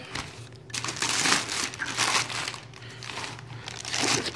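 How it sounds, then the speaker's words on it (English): Plastic packaging crinkles and crackles in uneven bursts while a Roland Micro Cube guitar amplifier is unboxed, handled up close one-handed with no speech. "Get this plastic off here."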